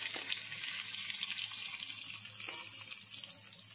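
Potatoes seasoned with salt and turmeric fry in oil in a pan, a steady, soft hiss and crackle running evenly throughout, close and alone without talk.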